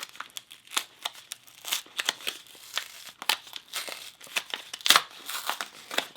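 A small paper envelope being peeled open by hand, a run of close, dry crinkling and tearing rustles in short irregular bursts, with one sharper rip near the end.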